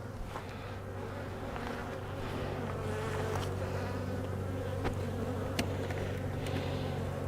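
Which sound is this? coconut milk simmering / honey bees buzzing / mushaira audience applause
honey bees buzzing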